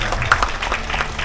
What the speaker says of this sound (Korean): 박수 한번 보내주시면